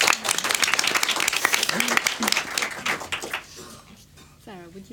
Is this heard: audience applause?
yes